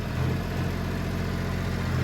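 A tractor engine runs steadily in low fourth gear at around 1800 rpm, its tyres filled with water, giving a continuous low droning rumble at even, moderate loudness with no speech over it.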